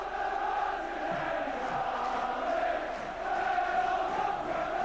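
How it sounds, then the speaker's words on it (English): Liverpool supporters cheering at Villa Park during a 1988 FA Cup fourth-round win over Aston Villa, a distant, steady crowd roar and chanting filling the stadium, sustained throughout. "They're the Liverpool fans. It's the same old story for them, cheering on another Liverpool victory."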